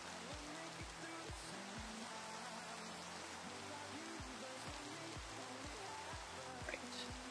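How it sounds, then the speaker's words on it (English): Steady rain in a video game makes a constant hiss, with game sounds repeating over it. "just darker because of the rain."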